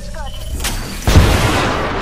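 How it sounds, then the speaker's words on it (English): A grenade blast in a sci-fi shooter video game erupts about halfway through as a loud, deep boom, followed by sustained rumbling noise, with brief gunfire-like game sounds before it. "Look out, grenade."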